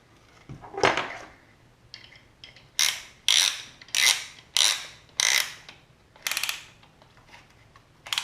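Piston ring compressor being ratcheted tight during engine assembly, with a run of about six or seven sharp, close ratchet clicks spaced roughly half a second apart after some softer handling sounds.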